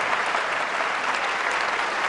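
An audience at a televised professional wrestling bout applauding after a fall: a continuous, dense wash of clapping from a large crowd, even in loudness throughout.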